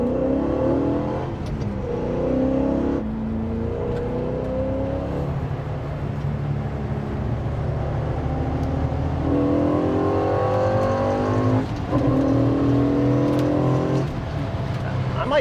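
A 1960 El Camino hot rod from Barry's Roadster Shop with a 480 hp LS3 V8 and McLeod clutch revs hard through repeated rising pulls with shifts between them, a loud close growl inside the cab.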